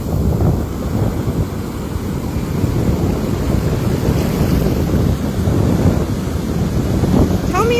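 Ocean surf and wind on a cold shoreline, a steady broad roar of waves with gusts buffeting the microphone throughout, loud and continuous with no clear speech.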